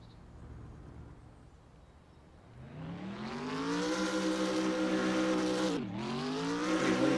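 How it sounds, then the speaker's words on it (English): A stuck race car's engine winding up from a low idle into a loud, sustained high rev, dipping briefly and climbing again, with no voices. "Keep on revving and reversing it."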